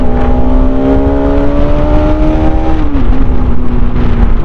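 A group of seven or eight motorbikes rides along a rough, poorly paved road, their engines droning in a constant steady hum with a slight dip in pitch partway through, loud and close with no talking.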